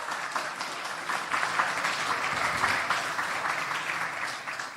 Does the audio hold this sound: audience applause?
yes